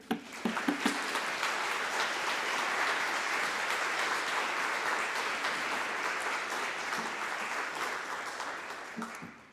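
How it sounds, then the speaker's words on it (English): A large crowd claps steadily for several seconds, the sound swelling then slowly fading, with a few scattered voices near the start. "Please join me in a warm welcome to Dr. Sophia Hayes."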